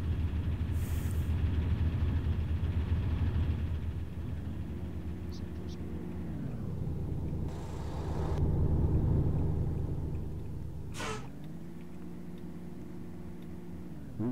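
A muffled vehicle engine rumbles steadily at close range, with a deep low drone that swells and eases as it passes, and two rising-falling engine tones repeat through the clip.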